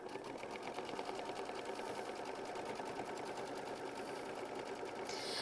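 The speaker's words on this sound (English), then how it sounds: "we are going to sew our tack down step," A sewing machine stitches a tack-down step on a quilt block, a steady fast mechanical whirring and ticking running continuously at low volume with no talk.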